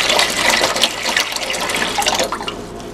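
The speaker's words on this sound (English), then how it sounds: "Put some water on the bowl for their noodles." Water poured into a bowl for noodles in a home kitchen, a loud, continuous close-up rush and splash lasting a few seconds, with no talk.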